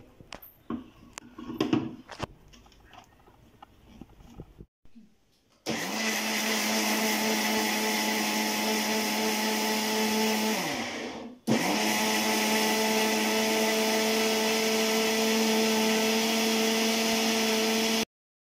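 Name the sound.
mixer grinder grinding coconut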